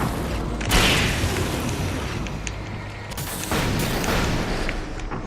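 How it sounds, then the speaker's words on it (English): Explosions boom in the Alan Wake video game, a heavy blast followed by a second burst a few seconds later, both loud and close over continuous rumbling noise. "And everything's exploding."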